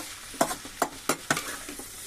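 Tomato and bitter gourd curry is stirred in a frying pan, giving four or five sharp, close scrapes of the spoon spaced at short intervals over a soft sizzle.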